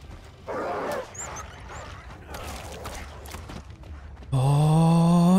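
A dog barks a few times in the caveman-era video game Far Cry Primal, short bursts over a constant game ambience before a loud tonal music sting cuts in at the end.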